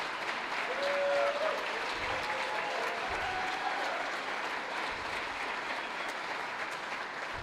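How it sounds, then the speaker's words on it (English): An audience at a county town hall kickoff event applauds the women who prepared the reception, a steady round of clapping filling the room at moderate level, with a brief tone and faint voices in the mix. "Let's give them a round of applause."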